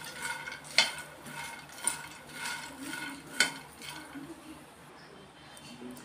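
Veg keema frying in a pan, a soft sizzle under repeated scraping and clinking as a metal spatula stirs against the pan, with a few sharper knocks spaced through the stirring.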